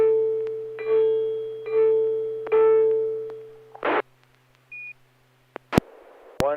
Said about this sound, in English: That was an H in Morse code, right?